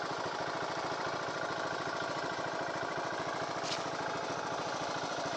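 An irrigation pump machine runs in a paddy field, a loud, steady engine drone with a fast, even chugging pulse that holds unchanged throughout.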